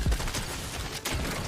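Infiltrator pump shotgun firing in a Fortnite 2v2 box fight, with a sharp close blast at the start and another shot about a second later, over steady game noise.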